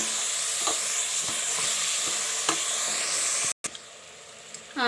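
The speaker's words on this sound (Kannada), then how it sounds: "ಮಸಾಲೆನ ಚೆನ್ನಾಗಿ ಫ್ರೈ ಮಾಡ್ಕೊಳ್ಳೋಣ." Masala for mutton sambar frying in a pan, a steady close sizzle with the scrape of stirring throughout, briefly cut off near the end before the hiss returns.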